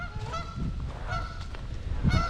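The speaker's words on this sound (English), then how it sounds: "Wonder if they're Canadian geese." Two geese honk at a KOA campground on Lake Erie in Ohio, a series of loud, nasal honks that come close together and sometimes overlap, with light wind noise underneath and no one talking.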